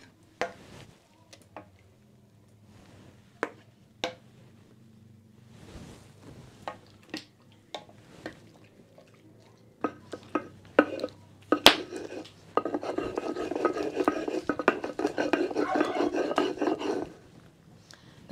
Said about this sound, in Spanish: a empezar a moler con mi metate